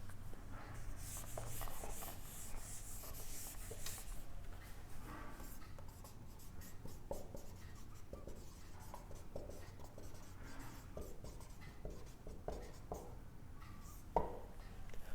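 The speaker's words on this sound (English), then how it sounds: "now I shall write it here" Chalk or marker writing on a board during a maths lecture on enveloping cylinders, a faint continuous scratching and rubbing with irregular strokes, quiet and close, without talk.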